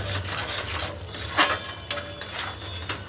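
A ground masala spice paste of coconut, coriander, ginger and garlic is stirred in a pan for a Marathi matki sprouted moth bean dish, making a steady close scraping and rubbing with a few sharper clicks.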